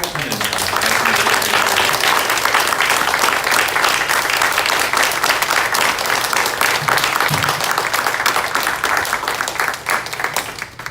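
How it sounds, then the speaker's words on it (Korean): A church congregation applauds during a Sunday worship service, full and steady clapping close by that holds strong for about ten seconds before easing slightly at the end, with a faint tone underneath. "한번 박수로 축복하면서 말씀드리겠습니다."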